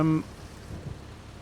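Rainfall in Farming Simulator 25 on the Riverbend Springs map gives a soft, steady wash of noise low in the mix, opened by a brief tonal blip; no distinct thunderclap stands out.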